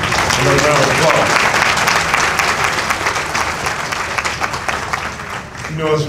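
A banquet audience gives a sustained round of applause for Imam Tyree El-Amin at an annual awards dinner, dense clapping that gradually thins and fades, with voices audible over it.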